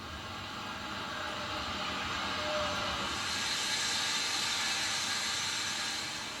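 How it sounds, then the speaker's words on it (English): A steam train on the Somerset and Dorset line in 1966 sets off toward Bournemouth, a broad hissing roar of steam and rolling rail noise that builds slightly as it moves off, heard from a moderate distance. "These evocative scenes were recorded on New Year's Day 1966, with a train setting off on its leisurely journey to Bournemouth."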